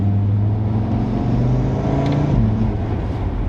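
Audi RS3 facelift accelerating in third gear from about 50 km/h and just over 2,000 RPM toward full boost, a steady loud engine drone with a rising tone partway through, no talking.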